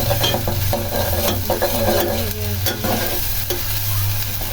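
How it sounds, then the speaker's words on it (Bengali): A ground paste of onion, garlic and ginger sizzles and spits in hot oil in a home kitchen, a steady close frying hiss broken by scraping stirs of a utensil against the pan, with no voices. "এদিক দিয়ে আমি তেলে গরম করে মশলাগুলো দিয়ে দিয়েছি।"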